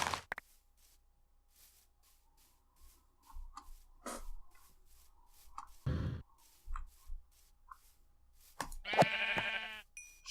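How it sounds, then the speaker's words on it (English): Sheep in Minecraft give short bleats among sparse clicks and game ticks, with one clear, louder bleat near the end standing out against a mostly quiet background. "Sheep."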